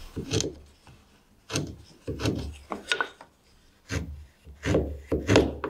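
A marking tool scrapes around square wooden stock for a mortise-and-tenon stool, giving a series of short, close scratchy strokes separated by brief pauses.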